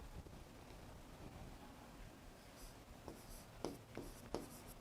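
Pen strokes on paper during a classroom lesson, quiet scratchy writing sounds with a few sharper ticks near the end over faint background hiss.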